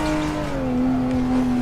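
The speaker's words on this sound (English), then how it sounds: "The turbo sounds on this car are not realistic, but they're cool." Car in a racing simulator video game, a steady engine drone with a turbo whine that dips and settles into a constant tone, loud and continuous.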